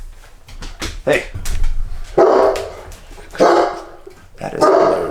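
A pet dog barks sharply at her own reflection in a glass pane indoors, several loud close barks in bursts with short yips and whimpers between, while a person talks over them.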